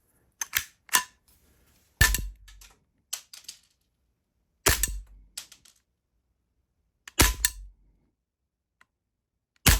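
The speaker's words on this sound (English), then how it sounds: "we're going to switch over to the PPQ pellet pistol." A T4E PPQ pellet pistol is fired at an outdoor range, giving sharp, snappy pops spaced a couple of seconds apart, each trailed by a few faint clicks, with silence in between.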